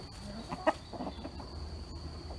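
Soft, scattered clucks from a hen or two in a chicken run over a steady low background hum, with a brief sharper squawk near the start.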